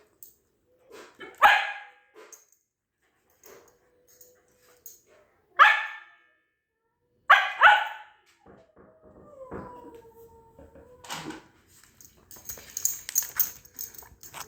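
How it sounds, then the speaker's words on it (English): A dog barking indoors in several separate loud, sharp bursts with pauses between, followed by a few whining yips and some household clatter. "I'm ignoring the barking"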